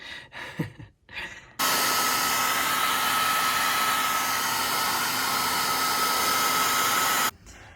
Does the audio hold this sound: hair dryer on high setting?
yes